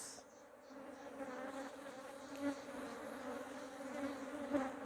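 Honey bees buzzing steadily around brood-filled hive frames while a colony is split into nucleus boxes, a continuous close droning swarm with slight swells in loudness.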